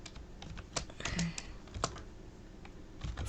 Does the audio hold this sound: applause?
no